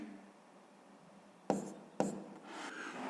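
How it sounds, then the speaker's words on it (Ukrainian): Pen or pencil writing numbers by hand on paper during a sixth-grade math exercise, a soft steady scratch that sharpens into two distinct strokes near the end, close and alone. "Ну що ж, записуємо тоді, що сума у нас дорівнює 426."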